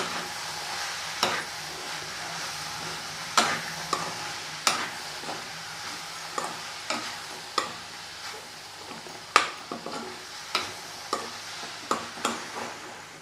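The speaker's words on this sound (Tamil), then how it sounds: "இதை சேர்த்துட்டு ஒரு ரெண்டு நிமிஷம் கலந்து விட்டுக்கோங்க" Grated coconut being stirred into a fenugreek leaf stir-fry in a pan: a soft steady sizzle underneath regular scraping knocks of a spoon against the pan, about one every second, close and without speech.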